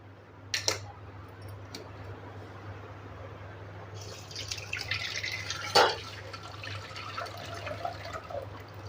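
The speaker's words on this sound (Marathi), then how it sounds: "हे पाणी आहे ना आपल्याला या चालण्यावरती गाळून घ्यायचं आहे" Soaking water drains from soya chunks through a sieve: a brief splash near the start, then a soft, steady trickle of draining water over a low background hum.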